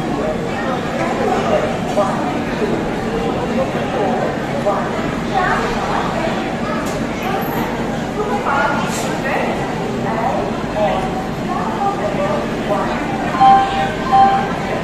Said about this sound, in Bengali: Vijayawada rail station